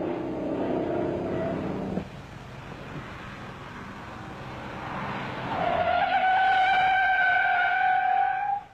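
A Dodge Charger Daytona brakes hard from speed in a stopping test, its tires squealing in a loud, sustained skid that rises into a high, steady screech toward the end, with no talk.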